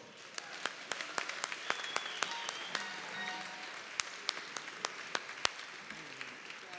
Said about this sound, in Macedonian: ве молам аплауз